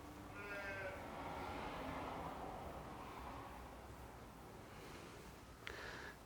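A goat at a zoo gives a couple of wavering bleats early on, then one short cry near the end, all fairly faint over a constant rushing background noise.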